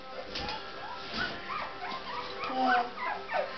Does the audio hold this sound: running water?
no